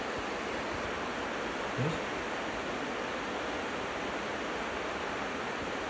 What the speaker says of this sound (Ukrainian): Тут тече річка вже.